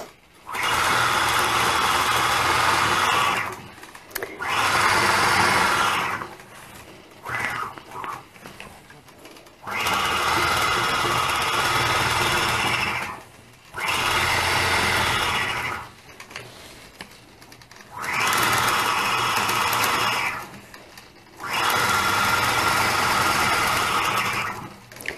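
A sewing machine stitches machine quilting in bursts of rapid, mechanical rattling, about five runs of a few seconds each separated by short pauses, close and fairly loud.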